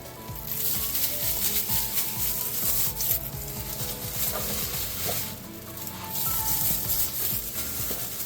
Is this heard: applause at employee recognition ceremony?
no